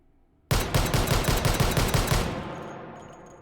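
Rapid string of Desert Eagle .50 AE pistol shots fired with a stock and muzzle brake in the H3VR virtual reality shooting game, about ten loud sharp reports in quick succession, then a ringing decaying tail.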